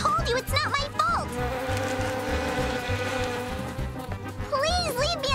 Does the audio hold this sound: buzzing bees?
yes